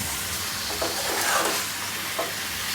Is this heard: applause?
no